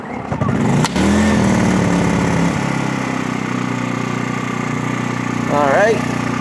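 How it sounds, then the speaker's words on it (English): Small engine being switched on and started, then running steadily with a low droning hum close by, while someone talks over it; set in a new shop building during plumbing work. "engine switch on"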